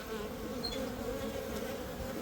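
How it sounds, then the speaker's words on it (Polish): Steady buzzing of many honeybees close by at a hive entrance, a continuous droning hum with no voices, occasional individual bees passing nearer. "co chwila pszczoły wchodzą"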